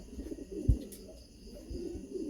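Fourteen racing pigeons sit in a basket before a road training toss and give soft, low coos that come close and quiet. A brief thump sounds near the start.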